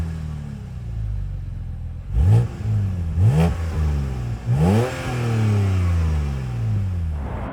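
A BMW Z4 with the N52 engine revs sharply in three quick blips over a steady idle, each rise and fall close and loud, then settles into a sustained higher rev.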